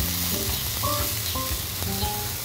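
Pork tenderloin and onions sizzle steadily on a hot grill as they are flipped, with a continuous close hiss and a few brief clanks from the flipping.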